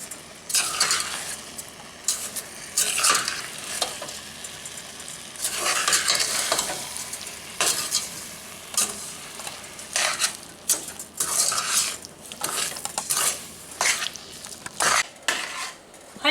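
Blackberry jam made from freshly picked Humboldt blackberries boils in a pot on medium-high heat while being stirred. Close, irregular bursts of scraping and clinking from utensil against pot sound over a soft bubbling sizzle, with no talking.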